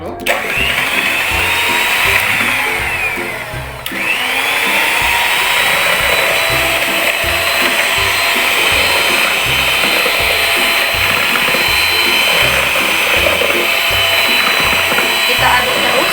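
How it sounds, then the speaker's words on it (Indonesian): Electric kitchen mixer running steadily at its lowest speed, a loud, close, continuous high whine that dips briefly near the start and then holds level, with no voice over it. "Siapkan mixer."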